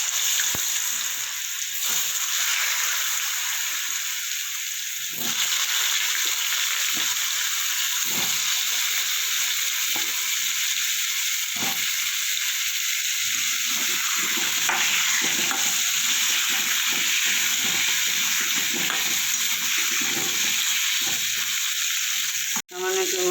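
Cut taro frying in hot oil tempered with black cumin, a steady close sizzle and crackle with occasional stirring scrapes, continuous throughout with no talk.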